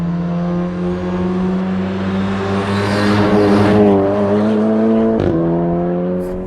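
A modified VW Golf R engine accelerates from inside the car, its loud steady drone climbing in pitch through the revs, then dropping sharply at a gear shift before pulling again.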